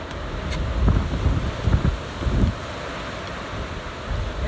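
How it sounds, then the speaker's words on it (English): Gusty wind blowing outdoors in the Blue Mountains, Australia, a steady broadband rush with a few stronger low gusts buffeting the microphone. "That wind's coming up."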